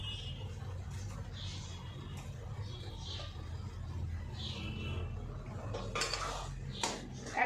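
Metal clinks and scraping as fish is stirred into spice paste in a pan for a spicy Bengali fish dish, steady low cooking noise with a few sharper clanks near the end.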